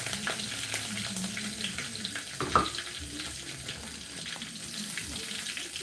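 Curry leaves are dropped into hot oil in a home kitchen, setting off a steady crackling sizzle with one brief sharp pop partway through, close and fairly loud, with no one talking over it.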